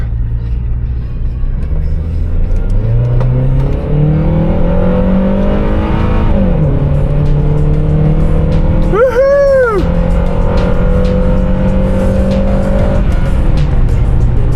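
A 30-year-old Honda engine revs hard and loud, pitch climbing through several steady pulls with a sharp dip and rise partway, a continuous close roar that swells into a high-rpm VTEC wail.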